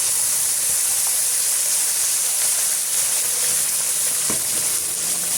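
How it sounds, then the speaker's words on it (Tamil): Ground tomato and chili paste frying in a pan for instant tomato pickle, giving a steady, loud hissing sizzle throughout with an occasional stir, no talk. "இந்த அளவுக்கு வதங்கி வந்த பிறகு நம்ம அரைச்சி வச்சுருக்க பேஸ்ட்டை சேர்த்துக்கலாம்"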